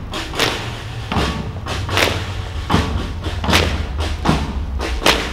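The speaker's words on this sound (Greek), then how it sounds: "Χτυπάνε πολύ δυνατά το πόδι τους" Soldiers stamp their feet hard on the ground in a steady ceremonial cadence, producing a series of heavy, close thuds roughly every second, each landing with a sharp impact over a low background hum.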